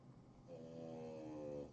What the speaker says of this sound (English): Sorry that my dog is snoring in the background